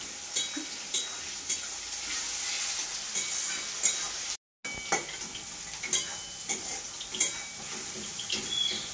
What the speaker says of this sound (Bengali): আমার টমেটো আর পেঁয়াজ ভাজা হয়ে গেছে